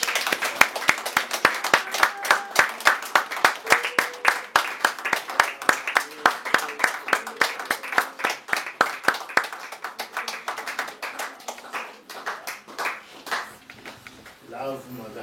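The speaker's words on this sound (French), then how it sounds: "est-ce qu'on peut acclamer ce Dieu?" A church congregation claps in praise of God, dense rhythmic handclaps that start loud and ragged and settle into a steady beat before thinning out, with voices calling out beneath.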